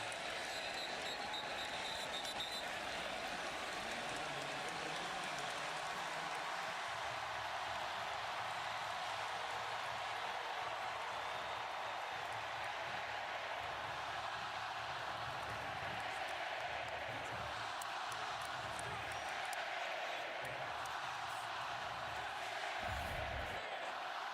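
A packed stadium crowd roars continuously at an Alabama vs South Carolina college football game, a dense, distant wash of cheering and whoops that swells and dips in waves over the full stretch.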